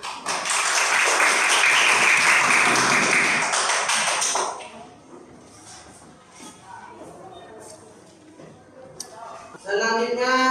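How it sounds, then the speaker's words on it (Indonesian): Audience applause at a group performance assessment event fills the first four seconds as dense, loud clapping, then fades into quieter room noise and shuffling with a brief voice near the end. "Tepuk tangan."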